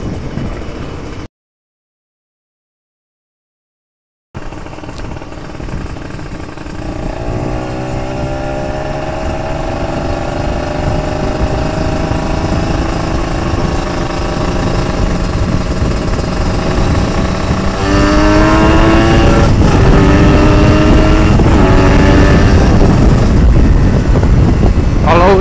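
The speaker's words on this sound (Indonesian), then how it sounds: "gue di sini sambil nyoba-nyobain gas-gas kecil, gas-gas setengah ya bosku" An older Kawasaki Ninja RR two-stroke motorcycle with a ported engine blips and revs through small and half throttle, its loud rasping drone rising in pitch after a brief gap of silence, recorded close up.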